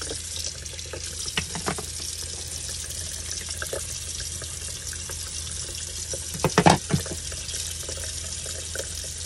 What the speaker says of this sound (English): wet the brush and start scrubbing around